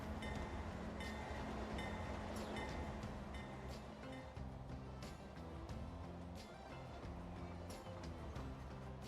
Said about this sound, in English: that is a long train